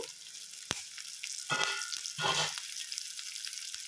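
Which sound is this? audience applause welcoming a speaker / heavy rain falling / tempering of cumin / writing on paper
tempering of cumin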